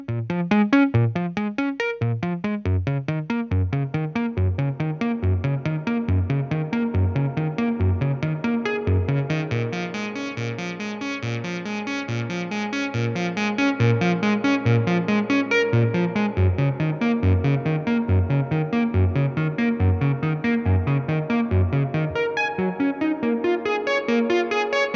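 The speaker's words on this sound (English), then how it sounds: "If you're lucky, it's an analog spring reverb, and actually both of these amps have an analog spring reverb." A synth line plays a steady, busy rhythmic pattern through a guitar amp, its notes smeared by the amp's wet analog spring reverb tail that lingers continuously.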